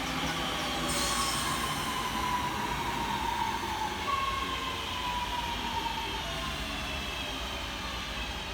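An Avanti West Coast Class 390 electric train and a Class 156 diesel unit cross each other near a station, giving a sustained steady rumble of passing carriages with faint wheel squeal and high tones drifting across.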